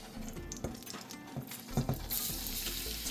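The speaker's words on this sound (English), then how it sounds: "the oil is starting to sizzle" Oil sizzling in a frying pan as a base is started for vegan sloppy joes: a steady, close crackling hiss with light stirring and utensil clinks, and no voices.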